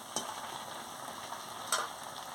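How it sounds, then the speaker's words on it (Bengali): Chopped onion fries in hot oil, a faint, soft sizzle with a couple of brief crackles, heard alone. "তেল গরম হয়ে গেছে এবারে পেঁয়াজ কুচি দিয়ে দিচ্ছি"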